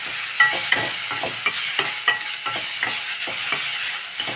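Okra and tomato sautéing in a pan for sambar, a continuous close sizzle broken by regular scraping and stirring strokes of a spoon against the pan.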